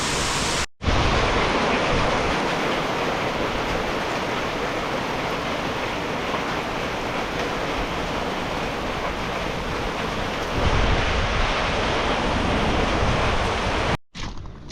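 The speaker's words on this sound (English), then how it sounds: "torrents of water coming down the road. It's just splashing up, big old muddy water" Heavy muddy storm water rushing in torrents down a road during a hailstorm with thunder and rain, a loud, steady broadband roar and splash that runs continuously, briefly cut off near the start and end.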